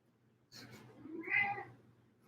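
A pet cat gives a single drawn-out meow, close and fairly quiet, rising and then fading, with no talking over it.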